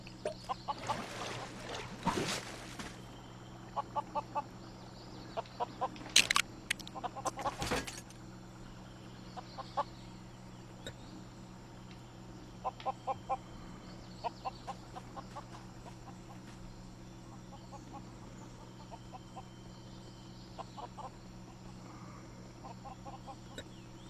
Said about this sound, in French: Super, on vient de capturer une mouette.